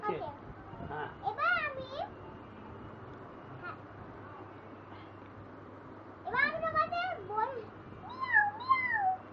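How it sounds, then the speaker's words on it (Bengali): A cat meows in short rising and falling calls: one early, then a cluster near the end, moderately close. A voice and household noise sit underneath. "ক্যাট মানে বিল্লি।"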